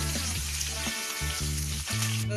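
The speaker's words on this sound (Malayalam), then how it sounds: "കടുക് പൊട്ടി കഴിയുമ്പോൾ അതിലേക്ക് ഇഞ്ചിയും അതുപോലെ തന്നെ പച്ചമുളകും വേപ്പിലയും" Ginger, green chilli and curry leaves frying in hot oil after mustard seeds pop give a dense, steady sizzle, close and continuous, with a few brief stirring dips and a low hum beneath.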